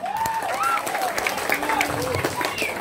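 A crowd applauds gamelan musicians at a Balinese temple ceremony performance, steady dense clapping heard close. It runs under voices and a pitch-gliding vocal line.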